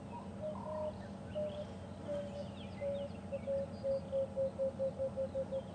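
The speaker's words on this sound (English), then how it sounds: "that you would have heard, is an emerald spotted wood dove, so another kind of dove." An emerald spotted wood dove calls on an evening safari drive at Djuma and Arathusa, a soft run of hollow notes that quicken and pulse toward the end, moderately distant over a faint bushveld background.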